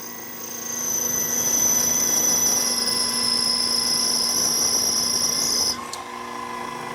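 Drill boring holes in an aluminum fixture plate, a steady high whine with tonal overtones running for several seconds before cutting off sharply near the end, close and loud, with no talk.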